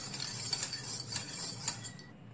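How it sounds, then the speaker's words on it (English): Karpuravalli juice mixture stirred in a bowl, with a steady scraping and clinking of a utensil against the sides in quick repeated strokes, close and fairly quiet, ending abruptly. "And we mix this mixture well."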